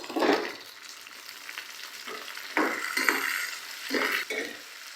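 Tomatoes and green chillies added to frying onions for masala bhindi, a steady sizzle broken by bursts of stirring scrapes against the pan, close and moderately loud.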